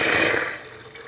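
Water pours from a glass jar into a pot to cook rice for rice pudding, a loud gushing splash that tapers off over about a second.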